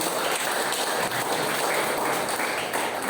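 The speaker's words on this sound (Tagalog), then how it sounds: "Bigyan natin ng malakas na palakpak ating Panginoon." A church congregation applauds during a worship service, a steady, dense wash of many hands clapping evenly throughout, fairly loud and unbroken.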